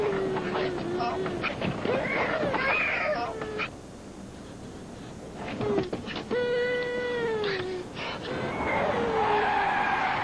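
A car skids to a stop just short of a busy intersection: tire squeals rise and fall in bursts across the ten seconds, with voices speaking over parts of it.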